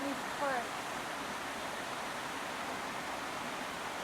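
Rushing water from two waterfalls and a stream beneath chambered stone arches among rocks at a Scottish bridge, a steady broadband roar held at even level throughout, with a brief faint voice-like sound near the start.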